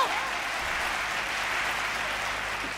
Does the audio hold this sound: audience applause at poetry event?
yes